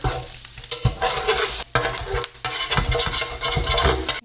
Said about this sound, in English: you'll have to scrape off the burnt almond flour